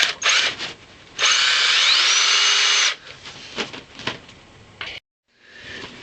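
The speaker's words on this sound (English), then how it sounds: "but I am drilling the holes." Loud power drill whirring in bursts, one long run of nearly two seconds, then shorter spurts and rattling, ending with a brief softer whir.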